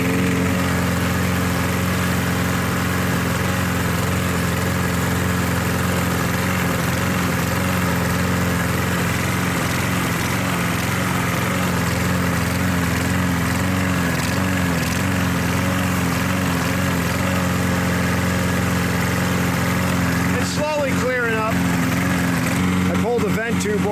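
A lawn mower engine left out all year and holding water in it runs at a steady, loud, droning idle throughout, with someone talking over it near the end.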